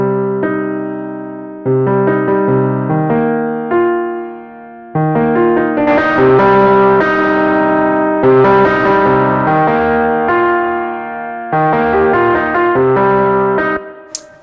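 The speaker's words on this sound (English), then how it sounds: "I can turn off Monster Fuzz and just hear the Grit pedal by itself without having to remove it altogether" Guitar played through the Grit distortion pedal in Logic Pro X PedalBoard: loud, gritty chords and riffs with bright overtones, sustained phrases and brief breaks between them.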